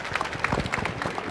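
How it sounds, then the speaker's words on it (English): Audience applause for conference panelists at a startup ecosystem session, a steady patter of many hands clapping at moderate volume, fairly close, with no speech over it. "please end this with a big round of applause for our amazing panelists here"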